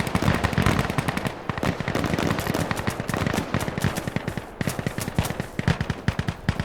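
Rapid automatic gunfire in Insurgency Sandstorm, dense bursts of loud, close shots rattling almost continuously, with brief gaps between strings of rounds.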